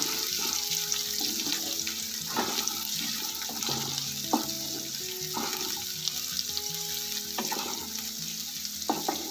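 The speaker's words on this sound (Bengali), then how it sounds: "এবার কুচানো পেঁয়াজটা দিয়ে দিচ্ছি পেঁয়াজটা একটু লাল করে ভেজে নেবো" Onions fry in a pan for masala baingan, with a steady close sizzle, broken by occasional scraping and clatter from stirring.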